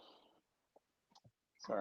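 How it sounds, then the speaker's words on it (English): A few soft, irregular keyboard clicks sit in a quiet gap between bits of talking at the start and end. "I'm gonna stop typing and talk for a second."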